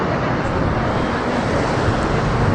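Sea waves and gusting wind at a Thessaloniki beach make a dense, steady roar of surf with wind buffeting the microphone, loud and constant throughout.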